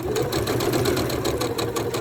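Sewing machine stitching a quilt block for half square triangles, a steady rapid mechanical chatter with even repeating clicks, close and loud throughout with no talking.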